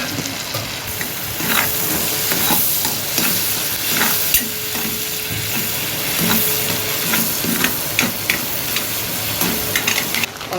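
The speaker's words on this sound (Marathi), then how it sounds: "जरा फ्राय करू याच्यामध्ये बटरमध्ये फ्राय करूया" Garlic and thick-cut green chilies fry in butter with a dense, continuous sizzle, broken by frequent spatula scrapes and stirring knocks. No one speaks.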